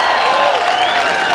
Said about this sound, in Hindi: जोरदार तालियों से फारूक शाब्दी का इस्तकबाल करिएगा